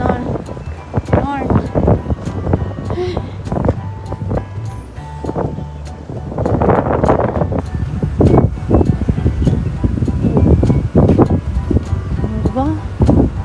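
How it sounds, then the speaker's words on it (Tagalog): Hot, gusty wind blustering across the microphone on a roadside walk, a continuous low rumble that grows stronger partway through, under near-constant talking. "Ngayon mainit pero mahangin"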